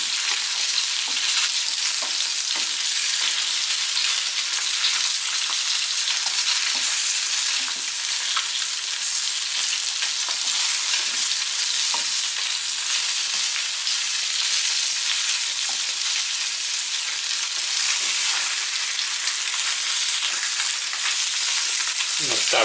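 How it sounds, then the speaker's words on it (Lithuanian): Pieces of carp sizzle and fry in a pan, a steady dense crackle of hot oil running unbroken throughout, with occasional faint clicks as the fish is turned. "Pavartom, kad apkeptų iš visų pusių."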